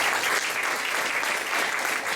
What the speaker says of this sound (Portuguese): Vamos aplaudir pela vida do pastor Vanderlei.